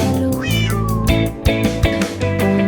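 Cat meows sung into a French children's song about a space race, repeated meowing over bright music and a steady beat.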